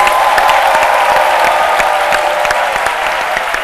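Studio audience applause on a French-language midday TV show for agriculture students in the audience, a loud, continuous round of clapping with crowd noise, some claps distinct, sustained throughout.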